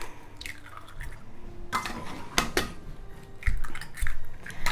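Two eggs go into a bowl of creamed butter and soft brown sugar for a Christmas cake: a few close, sharp clacks and wet plops spaced over several seconds, with light kitchen clatter between.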